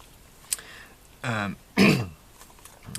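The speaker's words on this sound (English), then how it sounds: "Pardon me, and I'm going to cough." Two rough throat-clearing coughs, close and fairly loud, follow a faint click, with a short pause between them.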